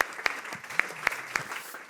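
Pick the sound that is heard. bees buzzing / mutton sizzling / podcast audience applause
podcast audience applause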